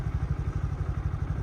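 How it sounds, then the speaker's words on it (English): A Honda Grom motorcycle engine chugs nearby on a mountain backroad near Silverton, with a low, rhythmic thumping pulse, steady and fairly quiet throughout. "Then you see motorcycles like this."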